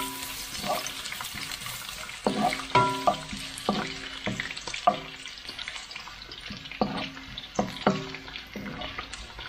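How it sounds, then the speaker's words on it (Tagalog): Sliced ginger sautés in hot oil in a pan, a constant sizzle punctuated by repeated clattering stirs and scrapes at irregular intervals, loud and close, with no voices. "Sa ating mainit na kawali na may mantika, magigisa tayo ng luya"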